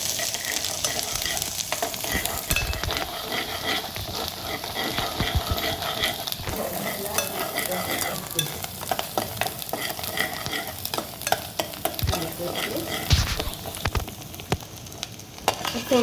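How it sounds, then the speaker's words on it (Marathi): Green masala paste stir-fried in a pan for a Maharashtrian brinjal curry, with a steady close sizzle and frequent scraping and stirring strokes, no talk. "आता हे चांगलं परतून घ्यायचं."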